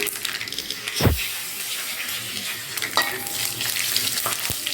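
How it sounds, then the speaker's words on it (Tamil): Mustard seeds crackle and splutter in hot oil for tempering alongside whole dried red chillies and urad dal, a steady bright frying hiss with a few sharp pops and one louder low thump near the start. "கடுகு பொரியுது. கடுகு பொரிஞ்சது"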